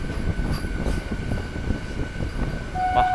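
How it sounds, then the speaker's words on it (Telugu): A MEMU passenger train pulls out of Chittoor railway station with a low, rolling rumble and steady mechanical tones, and a sustained higher tone rises near the end. "మన మెమోని ట్రైన్ వచ్చేసి చిత్తూరు రైల్వే స్టేషన్ నుంచి అయితే బయలుదేరిపోయింది"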